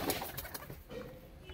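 Punjabi pigeons give a short, soft cooing call, close but quiet, lasting about a second and a half with no voices over it.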